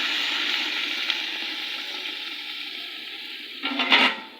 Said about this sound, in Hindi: इनके अंदर मैंने डाल दिया है पानी।